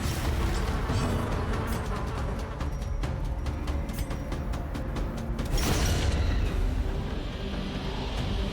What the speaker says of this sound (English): The big egg looking thing you passed a few times. That's where the mosquitoes are born.